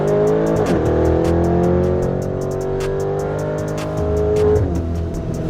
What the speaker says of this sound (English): you quickly remember that it's a supercar when you put your foot on the gas